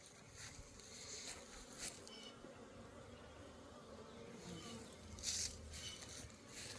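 Honeybees fly around their hive on a warm, sunny day, a dense steady buzzing close by with a few louder passes as single bees fly past the listener.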